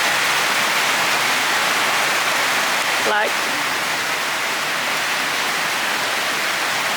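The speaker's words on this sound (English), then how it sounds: "honestly the rain is just so loud." Heavy rain pours outdoors in a steady, loud, broadband wash that fills the whole stretch, with a brief spoken word cutting through partway.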